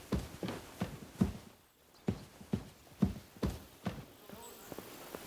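Horse hooves clip-clopping at a walk in the video game Kingdom Come: Deliverance II, an even rhythm of soft thuds at moderate distance over a low background.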